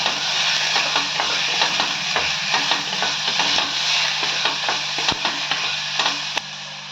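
Tomatoes sizzle in a pan while a chicken kurma is cooked, a steady frying hiss broken by repeated scraping stir strokes, close and moderately loud with no voices.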